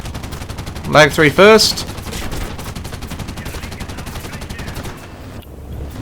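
Bursts of aircraft machine-gun fire from a German SM-79B bomber in War Thunder, dense rapid volleys under steady engine drone, with someone talking briefly over the action.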